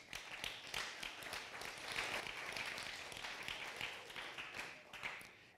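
Audience applause in a meeting hall, many hands clapping in a continuous, even patter that fades at the end, quiet and somewhat distant.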